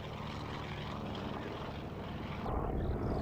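A vintage Avenger torpedo bomber's piston propeller engine drones at the 1998 Duxford Flying Legends air show, a faint, distant steady hum that swells slightly near the end.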